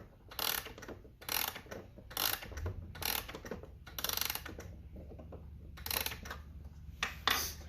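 Winding the mainspring of an Ansonia Bedford model parlor clock produces a steady series of soft, close ratchet clicks in regular bursts, quiet and evenly paced with slight mechanical rattle.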